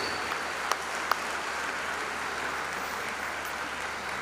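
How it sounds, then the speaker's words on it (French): Applause from a church congregation at a Sunday service, a steady even patter of many hands clapping with a couple of sharper individual claps standing out, moderately distant and filling the room. "on peut vous applaudir"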